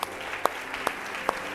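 Applause from a congregation during a Portuguese-language church service: a steady, moderately faint wash of clapping punctuated by a few sharper, louder individual claps.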